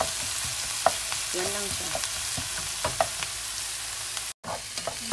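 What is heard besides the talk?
spaghetti sauce from a bottle frying in a pan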